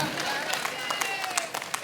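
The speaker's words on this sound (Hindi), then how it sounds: "ताली बजना चाहिए।" At a humorous poetry performance, scattered clapping rises from the audience, with sharp individual claps standing out while a voice talks over it.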